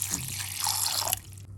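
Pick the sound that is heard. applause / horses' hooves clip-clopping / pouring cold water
pouring cold water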